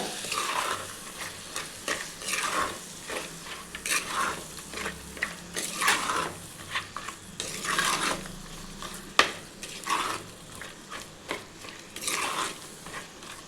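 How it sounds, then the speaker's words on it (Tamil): A spatula scrapes and stirs masala for mutton curry in a gently sizzling pan, with steady repeated strokes and no talking. "சேர்த்துட்டு நல்லா வதக்கி விடுங்க."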